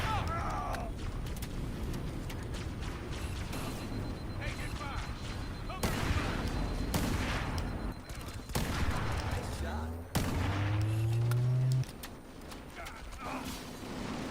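Rapid gunfire and weapon blasts fill a firefight in the Halo Campaign Evolved shooter game, with sharp bursts over continuous battle noise and someone talking intermittently.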